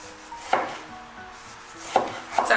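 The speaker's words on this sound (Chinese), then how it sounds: "再切长条" A knife chopping a tomato into strips on a board strikes three distinct, fairly close chops spaced unevenly over a quiet kitchen background, with no talking.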